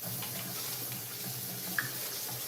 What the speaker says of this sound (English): So, rinsed off the lentils, just like Nora said in her recipe.